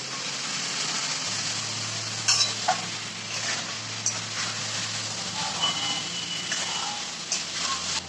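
Chicken meat sizzles and fries steadily in hot oil in a home kitchen, a dense continuous crackle with occasional louder pops and stirring clatter, a low steady hum running underneath.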